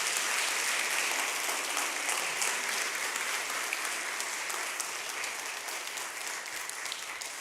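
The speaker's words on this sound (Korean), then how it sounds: "한번 축복의 박수 해주시기 바랍니다." A congregation at a Korean church service in Detroit applauds after a child's baptism, with broad, even clapping held steadily from start to finish.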